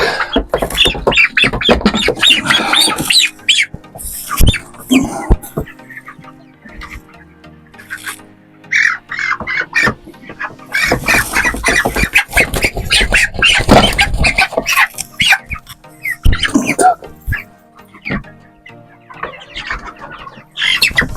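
Bursts of loud, close squawking and peeping from 23-day-old broiler chicks come in clusters, separated by quieter gaps.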